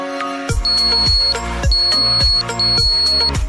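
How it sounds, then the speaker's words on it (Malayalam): A homemade electric mouse-trap alarm, powered by a 9V battery and built into a plastic bottle, blares loudly and close by, cycling through harsh rising buzzing tones about once a second with a thin high whine, and no voices. "അലാറം വർക്ക് ചെയ്യുന്നുണ്ട്."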